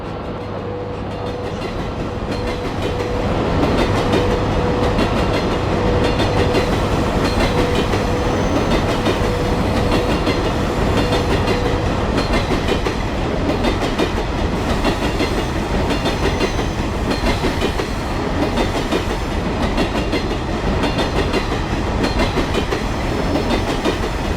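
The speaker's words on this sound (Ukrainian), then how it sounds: "гарний та довгий потяг" A long train rolls past continuously in the video game Farming Simulator 19, a steady loud rumble with clickety-clack of wheels on rails lasting the whole stretch, with no talk.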